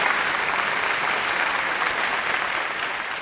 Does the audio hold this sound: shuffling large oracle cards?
no